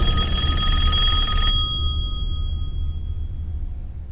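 An old-style telephone rings in a tense period spy drama scene. A single bright, metallic bell burst sounds loudly for about a second and a half, then stops, leaving a quiet room hum.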